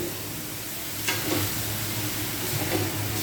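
Sitaw string beans are stirred through hot oil in a pan, with a steady close sizzle and soft scraping of the spatula every second or so, and no talking.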